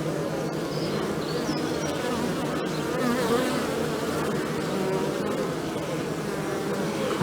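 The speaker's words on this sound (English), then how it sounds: "bees are quite active" A steady, dense buzz of many honeybees flying in and out of a hive close by, with individual insects droning past now and then.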